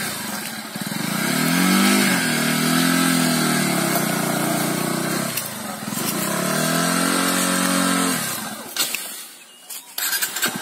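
Bajaj Pulsar 150 motorcycle engine revving in two long, close, loud surges that rise and hold before dropping away, followed by a quieter rumble and a few brief clicks near the end.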